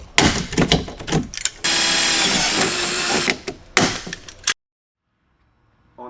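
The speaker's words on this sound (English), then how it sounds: "Push it to the roof, and then we're going to put a rivet here," A rivet tool fastens a roof panel on an EZGO golf cart, giving several quick close mechanical clicks and clacks, then a sustained loud hissing burst, more clicks, and a sudden stop into near silence.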